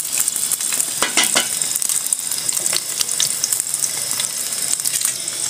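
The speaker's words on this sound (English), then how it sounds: "You come in with your bread. Ensure you put enough oil." Bread frying in plenty of oil in a pan for breakfast, a dense, steady crackling sizzle with scattered sharper pops, close and continuous with no talking.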